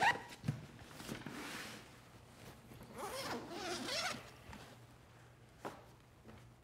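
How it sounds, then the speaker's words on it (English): Zipping open the side doors of a Peak Design camera cube and travel backpack: a close zipper rasp runs for several seconds, with a few short handling knocks and rustles alongside. "one zip, you open them both at the same time"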